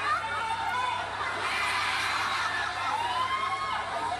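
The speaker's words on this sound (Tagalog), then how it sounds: "Sumasagot kasi yung crowd talaga" A live rap battle crowd reacting with a murmur of shouts, chuckles and chatter, fairly loud and continuous over a steady low hum.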